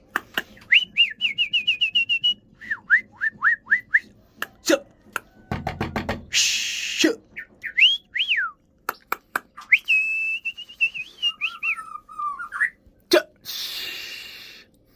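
A white-rumped shama sings close by in rapid bursts of clear whistles, chirps and rattling trills, with brief pauses and a few sharp clicks.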